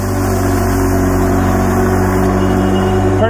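A Zamboni ice resurfacer's engine hums at a steady, loud drone with a constant low tonal rumble as the machine rolls across an ice rink at about ten miles an hour, with no talking.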